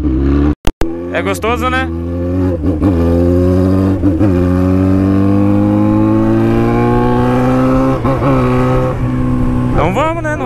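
Motorcycle engine revved hard against the rev limiter, a close, loud buzzing drone with repeated sharp cut-outs and rising pulls, while people talk over it.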